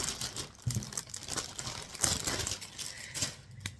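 Paper crinkles and rustles in several bursts as an item is wrapped, close and fairly quiet, with soft crumpling and a few sharper crackles.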